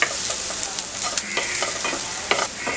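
Vegetables and onion stirred and fried in a pan for Schezwan masala Maggi, a steady close sizzle with occasional spatula scrapes and clacks, no voices.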